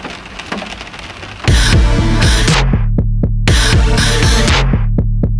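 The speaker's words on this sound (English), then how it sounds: "Rain pouring on your car and then suddenly stopping as you drive under a bridge." Loud, dense rain drums steadily on a car roof, cuts out abruptly to leave rhythmic low thumps, then surges back just as suddenly.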